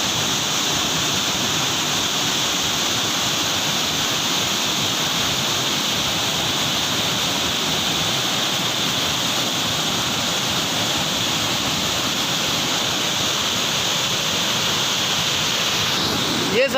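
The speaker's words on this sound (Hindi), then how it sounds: "इतना ज़्यादा पानी गिरा है बारिश का लखनऊ में" Heavy rain pouring down in Lucknow, a dense, steady roar of falling water that stays loud and unbroken throughout with no clear voices.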